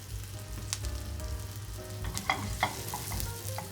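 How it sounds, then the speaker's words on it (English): Porcini mushrooms and thyme fry in butter and oil, a steady close sizzle with scattered sharp crackles and pops throughout, and no voices. "You hear that beautiful thyme crackling"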